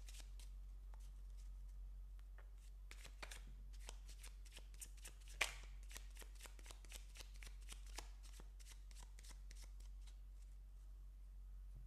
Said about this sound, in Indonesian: ada kartu-kartu yang jatuh